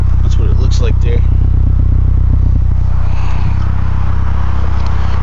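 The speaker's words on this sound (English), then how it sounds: "You can probably hear the exhaust." The exhaust of a 2008 Mazda Speed 3 rumbles at a steady idle, a constant low drone that runs beneath someone talking close by.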